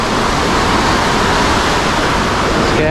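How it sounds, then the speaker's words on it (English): Powerful waterfall beside a road in Nepal, a loud, steady, broadband roar of crashing water that stays unbroken and constant, with no voices heard. "that's the scariest waterfall I've ever seen. Just because of the sheer power."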